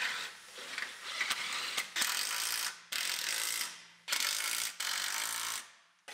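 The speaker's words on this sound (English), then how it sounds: "Now we bolt our bushing up to the rear end." A ratchet wrench cranks repeatedly while bolting a bushing to the rear end of a GMC Yukon, giving close, loud ratcheting bursts of about a second each with brief pauses between.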